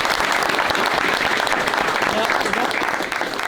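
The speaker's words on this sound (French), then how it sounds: "Vous pouvez l'applaudir." Sustained, dense applause from a crowd honoring a youth football team, with many hands clapping steadily and a slight drop at the end.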